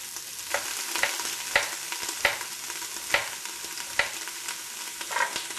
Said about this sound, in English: This is one of those high heat resistant spatulas, so you can just stir it in there